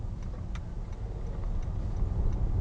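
Car turn signal indicator ticking in an even, quick rhythm inside the cabin, faint against low road and engine rumble, with no voices.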